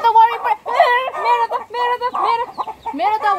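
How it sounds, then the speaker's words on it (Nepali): Chickens cluck and squawk close by in a steady, busy stream while being herded into their coop at nightfall, the calls overlapping with short pauses throughout. "राति भएपछि त कुखुरा खोरमा हाल्ने ड्युटी त मेरै हो"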